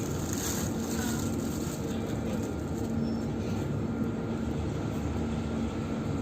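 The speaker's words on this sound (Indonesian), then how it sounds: "Jadi kita naik kapal Portling 3" On board the ferry Portling 3 crossing the Sunda Strait, a low, constant engine drone and rumble fills the air, steady and loud without any talking.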